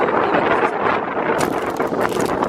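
Strong wind buffets the microphone on a beach near Mount Etna, a steady, loud roar with gusty surges and no voices.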